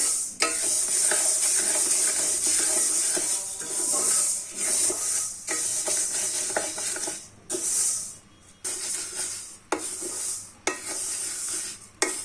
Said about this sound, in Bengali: চুলার আঁচ একদম কমিয়ে আমি মুগ ডালটা ভেজে নিব।